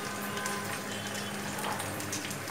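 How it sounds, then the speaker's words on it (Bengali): Bottle gourd boiling in a pot, a soft steady bubbling and watery simmer that stays faint and continuous throughout. "এখন লাউটা সিদ্ধ হতে থাক।"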